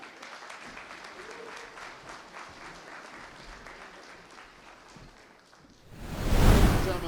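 Audience applause at a stage during the Ethnik Festival of Arts and Culture 2023, a dense steady crowd clapping that eases off, then swells into a loud close burst near the end.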